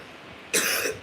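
One sharp, close cough bursts out abruptly after a quiet moment, then fades.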